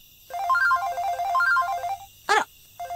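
A telephone rings with a bright electronic melodic ringtone, repeating its short tune twice, then a sharp burst and the start of another ring, clear and alone in a quiet room.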